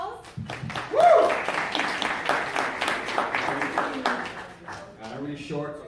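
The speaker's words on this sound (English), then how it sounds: "Can you give him a round of applause?" Audience applause for a guest at a talk on transformation, moderate clapping and a cheer mixed under a speaker's voice across the stretch.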